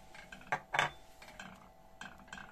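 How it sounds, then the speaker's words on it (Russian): Spices go into a hot honey mixture for Lenten stamped gingerbread, stirred in a pot with a spoon that clinks and scrapes against the sides in a few short, light knocks. "Все перемешиваю."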